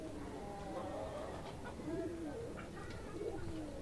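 Local pigeons coo in a loft, several soft rolling calls at a steady distance over a constant background hum, with a faint voice now and then.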